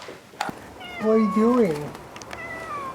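A cat falling off a roof lets out one long, drawn-out meow that rises and falls, close and fairly loud, with a person briefly speaking nearby.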